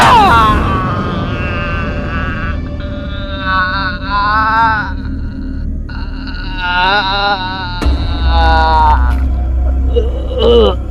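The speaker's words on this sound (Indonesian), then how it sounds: "Kok saya dengeran suara serigala ya?" A wolf howls in a forest in an Indonesian horror film, with long rising and falling wails that repeat several times, loud and close, over a low rumbling score.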